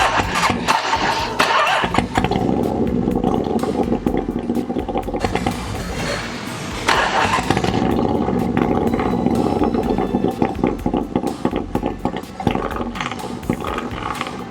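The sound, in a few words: Goldwing motorcycle engine starting and running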